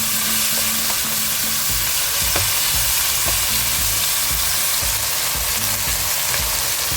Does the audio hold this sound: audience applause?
no